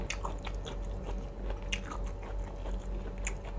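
Close, soft chewing and biting on sliced pork neck at a sukiyaki meal, with quiet repeated moist crunches and smacks at an uneven rhythm.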